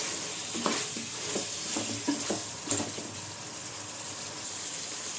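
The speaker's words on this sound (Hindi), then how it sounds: "अब इसकी कच्ची बू जाने तक अदरक लहसुन को अच्छी तरह से भून लीजिए।" Ginger and garlic fry in a pot, a soft steady sizzle close by with a few light stirring scrapes and clinks in the first few seconds.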